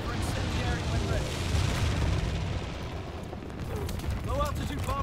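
An incendiary bombing run scorestreak in Call of Duty rumbles with heavy, booming blasts and a roaring low-altitude bomber, loud and dense at first, then easing into crackling fire with faint voices.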